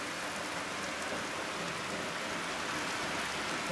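Heavy thunderstorm downpour with hail in Jelgava, a dense, steady roar of rain hammering down without pause, close and even throughout, with no voices.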